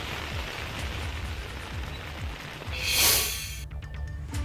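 Heavy rain falls steadily in a dense, even hiss, with a brief louder wash midway and faint low thuds beneath.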